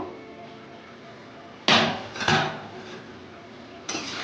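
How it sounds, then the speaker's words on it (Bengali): A metal lid comes off a cooking pot of simmering potatoes for Bengali prawn and banana-flower ghonto: two sharp clattering knocks close together, then a lighter clink a moment later, over a quiet kitchen background. "ঢাকনা তুলে দেখবো"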